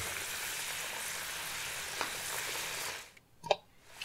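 Chicken deep-frying in oil over a high flame makes a steady, close crackling hiss for about three seconds, then the sizzle drops away, followed by a brief knock or clatter; no one speaks.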